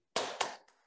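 A few hand claps in a classroom chant, with two crisp close claps and a softer third one trailing off.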